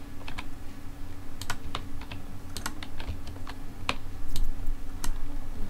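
Fingers type on a computer keyboard in rapid, uneven bursts of sharp clicks and taps, close and distinct over a steady low hum, with no talking.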